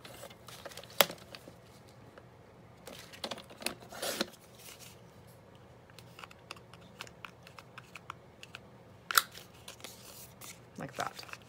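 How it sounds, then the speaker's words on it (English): Scissors snip through paper tags for a handmade envelope journal in scattered short cuts and crisp rustles, quiet and close with pauses between bursts. "I think I'm gonna cut those down to be tags, so I'm gonna go ahead and cut them out."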